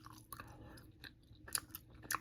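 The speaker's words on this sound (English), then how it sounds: "And today I'm chewing" Bubble Yum cotton candy bubble gum chewed close up in a closet, soft wet smacking and occasional crisp clicks in an irregular rhythm, quiet and alone without talk.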